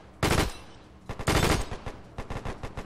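Gunfire in a WW2 video game set in the Norwegian campaign: rapid machine-gun bursts, two long rattling volleys followed by a string of shorter staccato bursts, fairly close and without talk.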